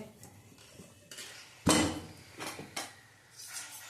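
A metal kadai is set down on a gas stove while making a green turmeric dish, giving one loud close clank amid lighter clinks and knocks of pots and utensils, with no talk.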